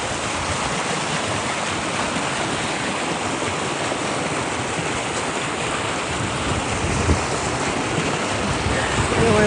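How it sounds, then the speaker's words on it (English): A river running high with snowmelt gives a steady, broad rushing roar from nearby water, continuous and fairly loud, with some wind buffeting the microphone and no talking. "River's high right now, very high. And it's only going to get higher with the melting snow."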